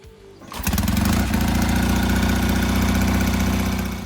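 A rotary engine on a 1980s Norton Commander motorcycle cranks briefly, catches and roars into a loud, steady idle with a rough, buzzing throb that continues to the end.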